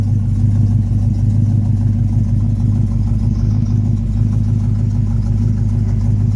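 A Pontiac 400 V8 with a four-barrel Quadrajet carburetor runs loud and close, its deep rumbling exhaust holding a steady, lumpy pulse throughout with no talking.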